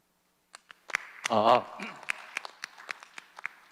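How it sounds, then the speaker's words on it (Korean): Scattered hand claps from a small conference audience patter unevenly, spaced and irregular, while a voice briefly sounds early on. "여러분 박수로 맞이해 주시기 바랍니다"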